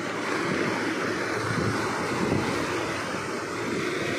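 Strong waves surge in a steady, rushing wash of noise, blurred by wind buffeting the microphone, continuous and fairly close with no talking.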